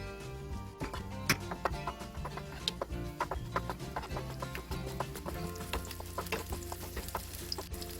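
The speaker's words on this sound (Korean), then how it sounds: "식용유 두스푼을 둘러서 마늘을 볶아보도록 하겠습니다." Garlic fries in two spoons of cooking oil in a pan, a quiet steady sizzle with scattered small pops and the occasional stir, heard alone without voices.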